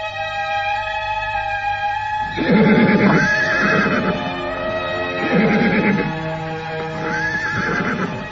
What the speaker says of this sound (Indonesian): Ada orang berkuda menuju kemari.